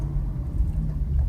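Steady low humming rumble from a car with a bad wheel bearing while driving, continuous and fairly loud with road noise, no voices.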